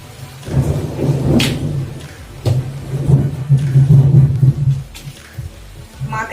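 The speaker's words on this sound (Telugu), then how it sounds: "సో కొద్దిగా 3-4 అయిందంటే ఇలా వర్షం అనేది వస్తుంది" Rain falls steadily on an afternoon while thunder rumbles through it, swelling in a few loud, deep rolls that rise and fade across the stretch, with no voices over it.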